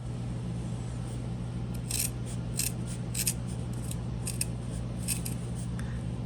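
Scissors make a series of quick snips while trimming the inside layer of a sewn fabric card wallet. The crisp cuts come in two close clusters over a steady low background hum, and nobody talks.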